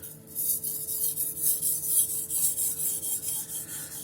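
Steel knife blade being sharpened and deburred with light pressure, a steady series of rhythmic rasping strokes, close and fairly quiet, with no talking.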